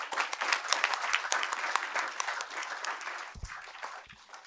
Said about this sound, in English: Can we have a round of applause for Sir?